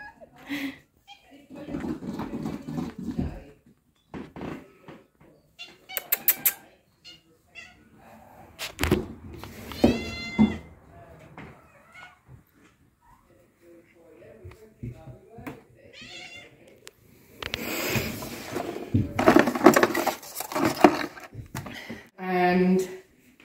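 A pet cat meows a few times at dinnertime indoors, short mews scattered among people talking nearby, with a clearer high cry near the end.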